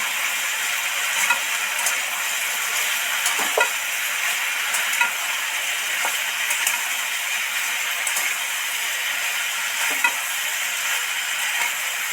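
Potatoes frying with chili and turmeric powder as they are stirred in the pan, a continuous soft sizzle broken by regular scrapes and light clicks of the utensil, with no voices.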